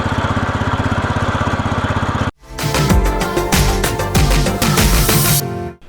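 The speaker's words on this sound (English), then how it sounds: "Those old Honda GX engines are hard to beat." An old Honda GX small engine runs on a farm, first with an even, rapid putter, then it cuts briefly and returns louder and rougher with irregular surges before stopping abruptly.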